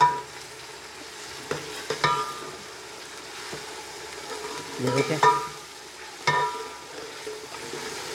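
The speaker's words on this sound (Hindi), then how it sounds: "ये देखें इसे अब अच्छी तरह से हिलाएंगे।" Ginger-garlic paste frying in a pan for biryani gives a soft, low sizzle, with occasional clinks and scrapes of a spoon stirring it; a voice speaks briefly at the start.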